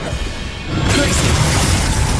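A Glacius ice spell cast in the video game Hogwarts Legacy, a loud sudden burst of bright, crackling, shattering noise that sustains after a brief dip in the busy game sound.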